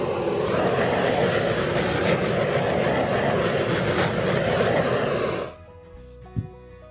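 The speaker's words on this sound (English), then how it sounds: "Got a couple more bubbles, so I'm going to give it a torch." A handheld torch blasts a loud, steady roaring hiss over poured acrylic paint to pop surface bubbles, running about five seconds before cutting off abruptly into near quiet with one small knock.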